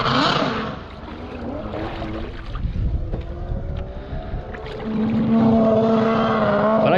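A SeaRat jet ski runs out on open water, its engine droning steadily at a moderate distance, rising and settling with wind noise and splashing around it.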